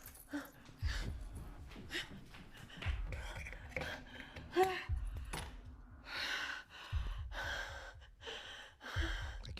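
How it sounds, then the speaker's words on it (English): Rapid panting breaths from a character in the PC horror game Night Book, repeating in quick bursts with short gaps, fairly close and moderately loud. "I can hear you panting rapidly out there."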